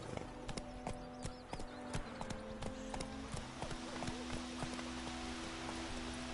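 Horse hooves clip-clop in a steady, moderately close rhythm during a ride, with a soft patter of rain in the background.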